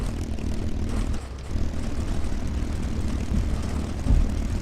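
Steady droning propeller engine hum of a P-51D Mustang in a flight simulator game, continuous and fairly loud throughout with a slight dip and surge partway through, no voices.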